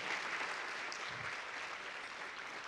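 A crowd at a Martin Luther King Jr. celebration breakfast claps in steady, dense applause that holds at an even level throughout, with no voices standing out.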